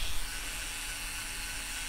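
Parkside PAS 4 D6 cordless screwdriver fitted with a small drill bit and boring a small hole; a faint, steady high-pitched whir runs unbroken for a couple of seconds with no talking.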